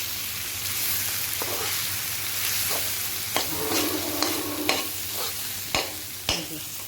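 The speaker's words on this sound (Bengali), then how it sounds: "এই যে ভালো করে আমি এটা ভেজে নিই" Meat with yogurt and spices sizzles in a pan under steady stirring, a continuous frying hiss broken by several sharp scrapes and clacks of the spoon against the pot.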